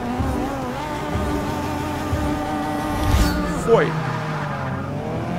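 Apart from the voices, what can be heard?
Porsche 718 RS 60 accelerating in video game Forza Motorsport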